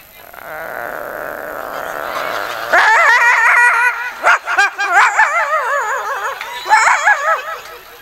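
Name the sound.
voice imitating dogs fighting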